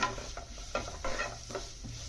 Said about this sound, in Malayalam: എന്നിട്ട് നന്നായിട്ട് വഴറ്റണം. നല്ല രീതിയിൽ വഴറ്റിക്കൊണ്ടിരിക്കണം.